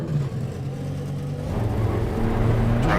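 An Audi race car engine in the racing game Assetto Corsa Competizione drones steadily, then rises in pitch and volume as it accelerates, ending in a louder revving climb.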